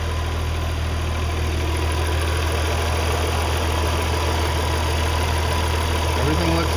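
A 2002 Audi S4 engine idles steadily with the air conditioner on, a constant low hum and drone with a faint high whine above it, heard close and loud throughout.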